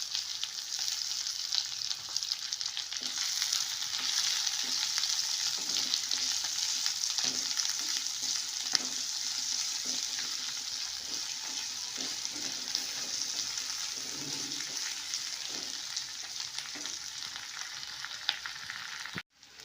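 Chopped onion fries in a pan with a steady, close hiss and crackle that runs unbroken, with light stirring scrapes now and then.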